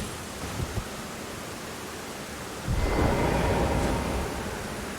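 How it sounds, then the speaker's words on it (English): Rain falling in the Elden Ring video game, a steady broadband hiss throughout that swells louder and denser about halfway through, with no speech over it. "let's get out of this rain"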